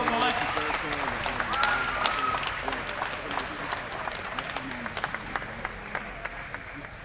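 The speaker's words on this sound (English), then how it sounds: "Give yourself a huge round of applause, guys." Loud, sustained audience applause at a Thug Trials fight event, with a steady wash of clapping and crowd noise underneath a voice talking over it.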